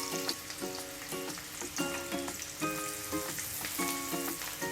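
Onion tossed into garlic browning in hot oil, a loud close sizzle with repeated clinks and scrapes of a spoon against the pan in a fairly regular rhythm.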